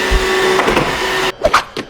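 A robot vacuum cleaner runs with a steady mechanical whir and hum, followed by a few short knocks and thumps near the end, close and fairly loud.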